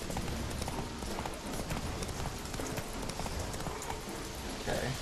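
Roach, the horse in The Witcher 3, trots with steady rhythmic hoofbeats clopping close by, continuous and moderately quiet throughout.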